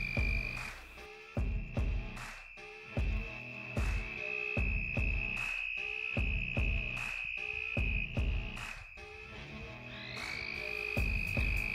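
A male red-spotted toad calls at night in the Arizona monsoon, giving a long, steady high trill that runs on and off. Sharp clicks and other chorusing amphibians sound nearby, and no one speaks.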